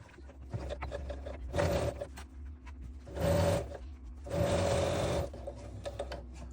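A sewing machine stitches quilt binding in three separate bursts of rapid whirring, close by and moderately loud, with quiet handling of fabric in the pauses between runs.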